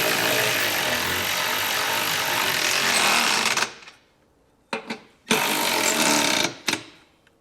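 A power tool runs in long, loud bursts to tighten bolts on a Curt trailer hitch receiver being installed on a 2023 Volkswagen Tiguan, with two short blips between the runs.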